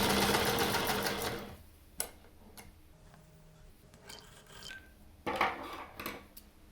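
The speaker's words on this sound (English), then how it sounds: "Place your fabric beneath the needle and lower the presser foot before stepping on the pedal to sew." A vintage Singer 128 sewing machine stitches fabric. A loud, fast, continuous run of stitching comes first and then stops. Scattered clicks and handling noises follow, with a short burst of renewed mechanical activity near the end.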